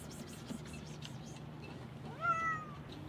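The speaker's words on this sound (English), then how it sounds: "But we got company almost every day by the Spanish cat Helge" A cat gives a single clear meow, rising then falling, over a steady low background hum, aboard a boat at a pontoon.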